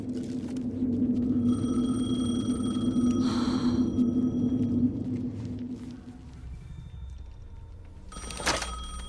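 A telephone rings repeatedly in the video game Alan Wake 2, with steady electronic tones over a low ambient rumble, followed by a brief sharp noise near the end.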